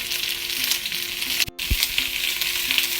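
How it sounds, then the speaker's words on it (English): Fish-recipe ingredients frying in a pan give a steady, close broadband sizzle that runs throughout, broken by one abrupt dropout about halfway and a brief low knock just after it. "Fry it a little bit"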